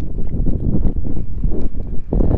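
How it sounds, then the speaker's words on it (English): Strong wind buffeting the microphone at a mountain lake, low rumbling gusts, loud and close throughout the short stretch, with no talking. "the wind is not cooperating at all."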